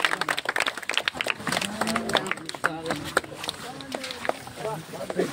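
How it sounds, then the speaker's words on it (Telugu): Audience clapping at the unveiling of a Dr. B.R. Ambedkar statue in Kallukunta, with a chief guest MLA present; scattered claps keep going underneath a voice speaking over the crowd. "చప్పట్లు కొట్టండి."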